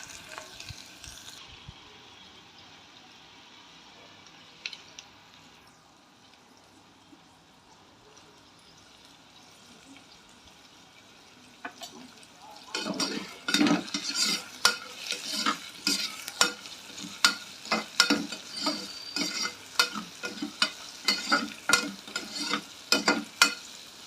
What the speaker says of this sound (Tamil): சீக்கிரம் வெங்காயம் வதங்குறதுக்கு.